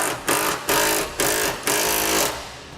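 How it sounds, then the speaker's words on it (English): A power tool, likely an impact wrench, drives a 19mm socket onto trailer hitch bolts under a 2007 Infiniti G35, firing in four loud bursts of rattling with short pauses between them, close up. "Now we'll be using a 19mm socket."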